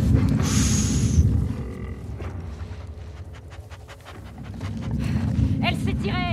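A dog in the video game The Last of Us Part II pants and sniffs, rapid breathy huffs that are loud at first, ease off and return, mixed with game ambience and a sharp whine near the end.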